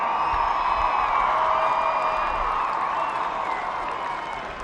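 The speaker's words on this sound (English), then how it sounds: "let's give them a big round of applause" Crowd at an Ohio Division II state championship basketball game applauds and cheers, a sustained roar of clapping and whoops that slowly fades, with a faint voice underneath.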